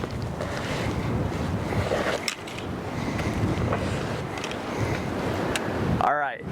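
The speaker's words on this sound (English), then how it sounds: "Oh, that wind is cranking, son." Strong gusty wind roars and buffets the microphone steadily outdoors at an archery range during long-distance arrow testing, a loud continuous rumble with a brief dip midway.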